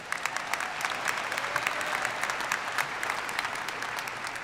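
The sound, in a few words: audience applause at commencement ceremony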